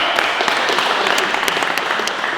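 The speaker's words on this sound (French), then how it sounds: "Applaudissements les gars." Crowd applause at a street-fighter versus pro-boxer fight event, a steady, fairly loud clapping that runs for the whole moment without pause.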